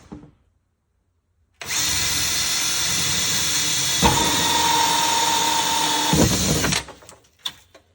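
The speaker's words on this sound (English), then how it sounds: "drill that hole out." A power drill with a 1 1/4 inch bit bores a hole through a tank for a pump install, starting abruptly after silence, running steady and loud with a strain partway, then stopping.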